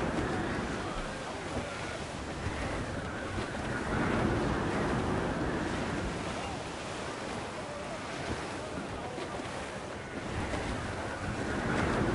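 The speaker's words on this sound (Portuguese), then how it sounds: "Tempestade, capitão, parece feia." Stormy sea in the Assassin's Creed IV Black Flag pirate game, with steady roaring wind and crashing surf that wash continuously over the whole stretch at fairly even loudness, no voices.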